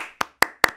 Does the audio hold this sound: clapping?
yes